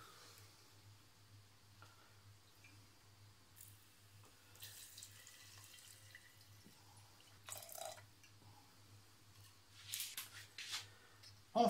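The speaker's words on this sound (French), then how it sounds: "On va verser l'alcool." Alcohol poured into a container to make hazelnut liqueur, heard as quiet, intermittent liquid splashes and trickles that grow busier toward the end, over a steady low hum with no talking.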